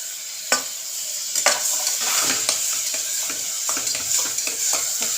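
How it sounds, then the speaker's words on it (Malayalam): Tomato is tossed into chicken curry in a small cooker and stirred, with steady sizzling frying under repeated scraping spoon strokes close to the pot. "തക്കാളി ഇട്ടിട്ട് നല്ലോണം ഇളക്കുക"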